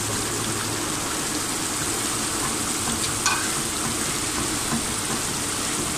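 Tomatoes and potatoes fry in a pan for pav bhaji, a loud, continuous close sizzle with a faint tap partway through.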